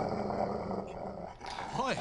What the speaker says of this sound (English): I know that sound, a dog's growl.